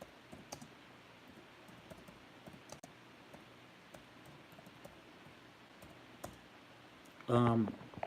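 Faint, scattered clicks of typing on a computer keyboard tap away under a quiet room hiss, ending in a short, sharper burst of sound.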